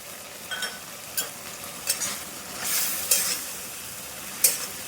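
Tomatoes soften in oil in a pan, giving a faint steady sizzle broken by several short scraping stirs of a spoon against the pan, close and alone without any talk.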